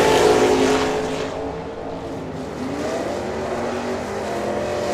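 A 1964 Corvette and a Mustang drag racing at Firebird Motorsports Park, a loud engine roar at launch fading into a sustained receding drone as the cars pull away down the strip.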